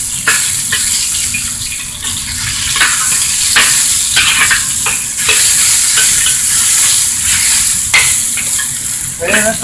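Beef stir-frying in a hot pan for beef chow fun, a steady close sizzle and crackle with repeated scraping and stirring strokes throughout, no talking.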